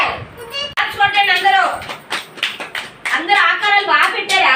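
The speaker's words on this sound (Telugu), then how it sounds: "క్లాప్స్ కొట్టండి." Children clapping their hands in an anganwadi preschool class, a burst of quick, close claps over several seconds, heard under an adult voice talking.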